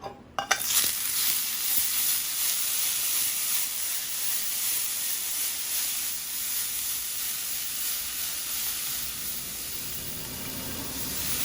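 Butter hits a preheated sauté pan with a sharp start, then settles into a loud, even, hissing sizzle that holds steady for several seconds with no voices over it.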